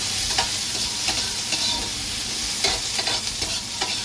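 White onions sautéing for tofu sisig, a steady broadband sizzle with repeated soft scrapes of a spatula stirring them through the hot pan, close and continuous with no talking.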